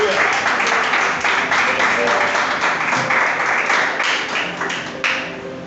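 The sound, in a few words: church congregation applauding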